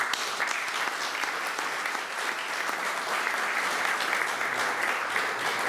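Steady, dense applause from an audience at a poetry tribute event in Sardinia, sustained at an even level for the whole stretch with no voices over it.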